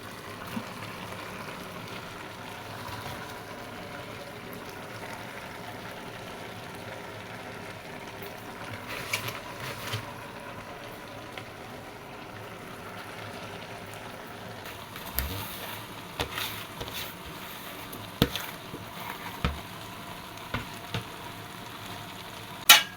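Edikang Ikong vegetable soup simmers in a pot as vegetables go in, a steady close sizzling and bubbling bed with scattered soft thumps and rustles of leaves dropping in toward the end.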